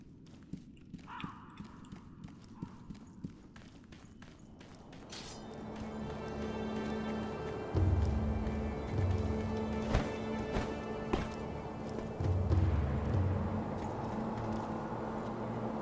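Horse hooves clopping in the video game Sekiro: Shadows Die Twice, sparse distinct hoof knocks at first, then a denser layer of steps over low rumbling ambience and musical tones.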